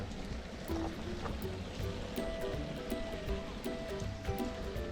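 Water pours and splashes steadily over dusty solar panels being washed outdoors, a soft continuous rushing with faint wet taps, fairly quiet and even throughout.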